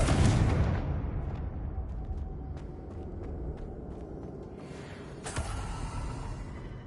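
A Confringo blasting spell explodes in a Harry Potter video game, a heavy rumbling boom that fades into a sustained low roar with faint crackles and a second thud near the end.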